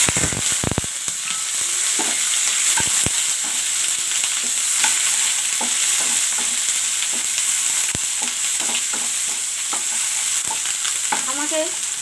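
Chopped onion hits hot oil already seasoned with cumin seeds and asafoetida, giving a loud, continuous sizzle with occasional crackles and spatula scrapes and stirring, and no talking.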